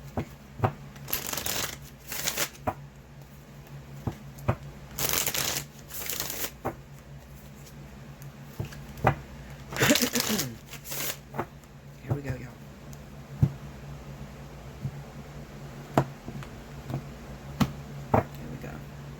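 Tarot cards being shuffled by hand for a reading: repeated crisp riffling bursts and soft card taps, close and fairly loud, spaced by brief pauses.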